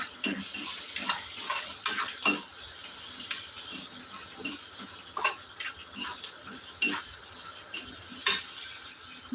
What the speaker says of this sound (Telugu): గోంగూర టమాటా ఎండి చేపల కర్రీ వండుతున్నాను